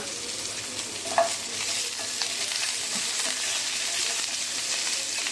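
Ginger, garlic and green chilies fry in a little oil, giving a steady, close hiss with a few soft stirring scrapes and no voices.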